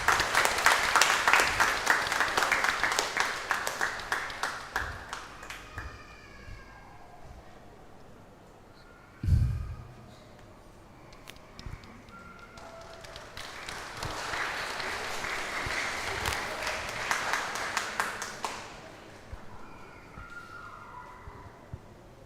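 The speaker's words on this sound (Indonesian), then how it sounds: "Kita berikan tepuk tangan untuk mereka." A crowd at a Catholic wedding Mass claps in a burst of applause that fades, then a second round of clapping rises again, with a brief thump between.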